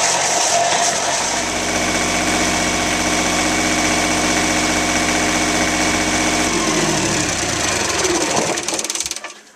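An 8.5 kW diesel whole-house generator runs steadily with a loud, even mechanical hum and vibration, then winds down toward the end of the clip.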